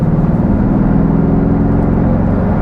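Steady, loud engine drone heard from inside the cabin of a 2025 Aston Martin Vantage V8 cruising around 2000 rpm in its quietest mode with exhaust valves closed, a continuous low rumble with no one talking.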